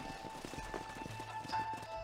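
Horse hooves clip-clopping in Red Dead Redemption, an uneven run of soft, fairly quiet footfalls over a low background.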